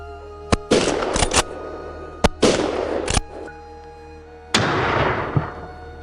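A hunter firing at wild hogs: several sharp, loud blasts in quick succession, some with longer rumbling tails, close by.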